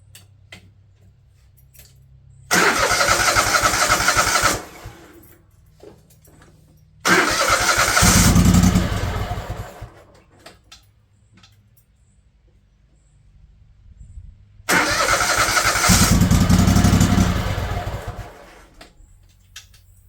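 A 20hp Kohler engine on a Craftsman LT1000 riding mower cranks and runs in three separate bursts, each lasting a few seconds, with quiet ticking in the gaps between them.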